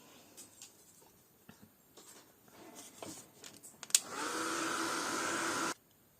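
A hair dryer blowing on a handmade paper card, starting with a click and then running as a steady loud whoosh for about two seconds before shutting off abruptly, preceded by faint handling noises.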